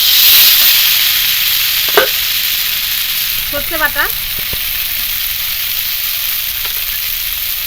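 Chopped tomato and spices fry in a covered pan for a Bengali hilsa-head curry, giving a steady, loud sizzle throughout with a few brief scrapes of stirring and a short spoken phrase.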